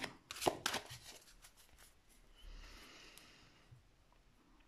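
Tarot cards are handled and shuffled close by, with a few quick papery riffles at the start before the sound fades to a quiet rustle.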